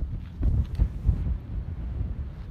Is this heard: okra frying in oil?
no